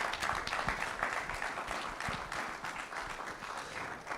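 Audience applause at a corporate compliance management workshop, a steady, dense wash of clapping that runs the whole time and fades slightly at the end.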